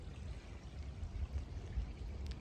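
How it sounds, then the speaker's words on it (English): Running stream in the woods, a steady broadband rush of flowing water with low gurgles, close and continuous, no voices. "some stream running water"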